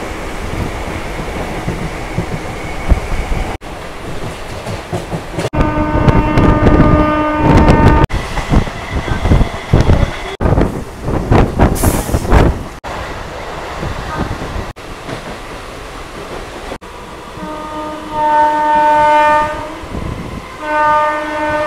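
Sealdah to Lalgola local train running after leaving Dum Dum station, a loud continuous rumble and clatter of wheels with a horn sounding partway through, some voices faintly under it.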